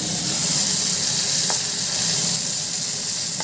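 Hard vegetables, set aside before the capsicum for homemade chicken pasta, fry in a pan with a steady, close, broadband sizzle that holds evenly throughout, with one faint clink partway through and no talking.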